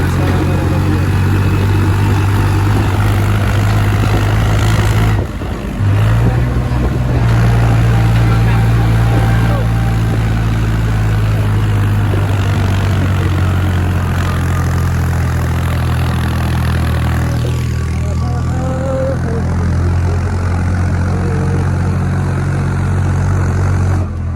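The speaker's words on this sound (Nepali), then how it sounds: "ट्र्याक्टरमा चढेको अवस्था है" A tractor engine runs steadily the whole time, a loud, low, droning hum with a brief dip near the start, heard from aboard the tractor in a snowy village, with occasional voices over it.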